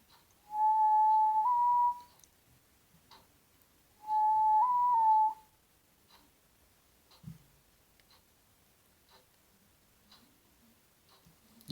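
Two clear whistled tones made by tapping the tongue on the palate, each about a second and a half long, with a slight warble and a pitch rise at the end, separated by quiet pauses and faint clicks.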